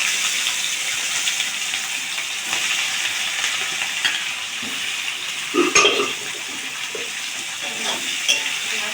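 Onions frying in oil with cumin, cooking until golden for a turkey chicken curry: a steady, close hiss of sizzling fat throughout, broken near the middle by a brief clatter of stirring.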